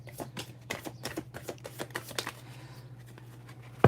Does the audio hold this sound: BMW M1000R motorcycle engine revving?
no